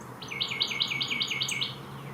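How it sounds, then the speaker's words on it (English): A Carolina wren sings from near a backyard deck, a loud, clear run of about seven rolling, repeated whistled phrases in steady rhythm, alone over faint background hum. "Here's a Carolina wren singing, just as I thought, loud and proud."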